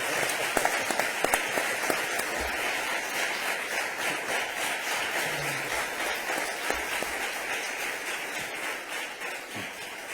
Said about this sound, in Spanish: Yo os voy a pedir un aplauso para Ángel.